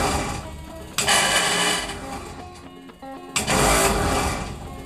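A Crosley starter motor spins in two short whirring bursts, its Bendix gear failing to engage the flywheel, so the motor buzzes freely without turning the engine over, with a quieter lull between the bursts.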